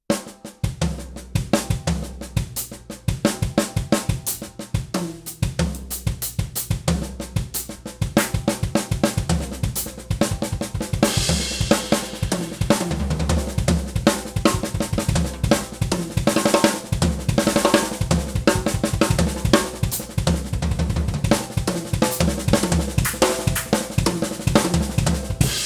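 A drum kit plays a fill of single strokes alternating between the left hand and the right-foot kick drum. The pattern is loud, dense and continuous, with rapid hits that run throughout.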